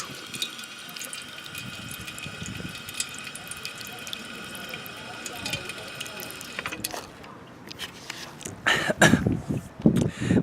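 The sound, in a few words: water running from a drinking fountain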